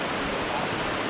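Waterfall on Wang Chung Stream in full spate, a steady broadband rush of falling water heard briefly and continuously.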